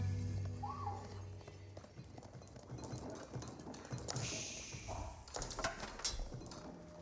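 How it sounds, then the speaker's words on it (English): Mounted horsemen moving in the Age of Empires 4 strategy game, with soft clip-clop hoofbeats and a brief whinny amid faint background game ambience. "Horsemen moving around."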